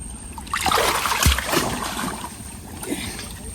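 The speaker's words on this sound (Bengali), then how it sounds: "প্রচন্ড টান, জলের স্রোত" Strong river current in the Sundarbans mangrove waters during crab hunting, a loud rushing wash with splashes and swirling water up close, no talk.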